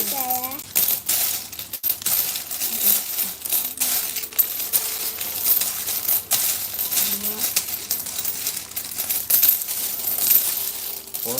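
Coins clattering and jingling continuously as an opened piggy bank is emptied, a dense metallic rattle throughout with brief voices in the background.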